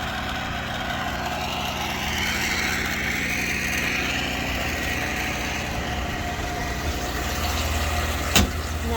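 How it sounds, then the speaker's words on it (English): A pump hums steadily while it fills a water barrel from a covered rain tank at an off-grid cabin, a continuous motor drone with one brief sharp knock near the end. "He hooks up this pump."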